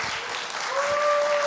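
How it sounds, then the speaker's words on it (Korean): A lecture audience applauds to welcome a professor to the hall, and the clapping is a steady, moderately loud wash. A thin sustained tone runs over the second half. "큰 박수로 모셔주시기 바랍니다"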